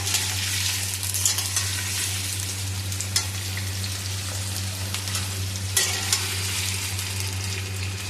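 Potato pieces fry in hot oil while being stirred, giving a steady, even sizzle that runs unbroken, with a low hum underneath and faint scraping now and then.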